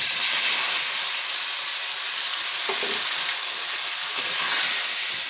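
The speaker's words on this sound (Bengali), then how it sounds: "এখন আমি বাটা মশলাটা দিয়ে দেবো।" Ground spice paste goes into hot oil after fried cumin, for a Bengali hilsa and aubergine curry, and sets off a loud, dense, steady close sizzle with a few soft knocks from the pan and no voices.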